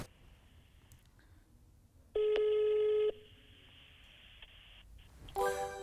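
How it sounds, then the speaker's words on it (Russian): A phone call ringing out: a single long ringback tone lasts about a second over a quiet room, followed by a brief rising electronic sound near the end. "Мы звоним Максу Брандту."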